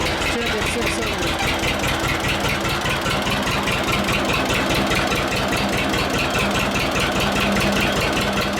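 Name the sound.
carburetor engine idling at 600 RPM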